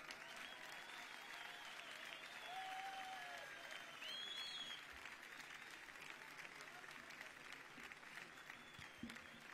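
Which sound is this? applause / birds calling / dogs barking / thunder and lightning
applause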